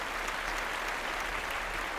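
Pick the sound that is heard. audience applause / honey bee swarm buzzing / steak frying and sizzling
audience applause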